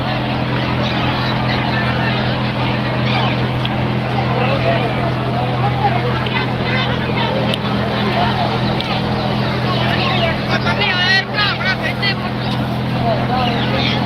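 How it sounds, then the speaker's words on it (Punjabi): Steady low engine rumble from several tractors running continuously in a Sikh nagar kirtan procession, with a crowd murmuring and voices in the background. "ਸੱਤੇ ਟਰੈਕਟਰ ਆ ਗਏ ਨੇ"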